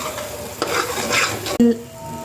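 Ground spice paste fries in oil in a pan as a spoon stirs it, producing a continuous sizzle with scraping strokes and a sharp clink of metal near the end.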